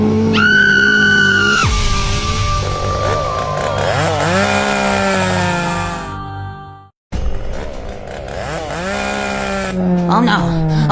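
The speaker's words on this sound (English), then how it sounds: "Wait, I don't hear the chainsaw anymore." A chainsaw revs loudly and unevenly in a comedy sketch, its engine pitch rising and falling, with shouting voices over it and a brief cutout partway through.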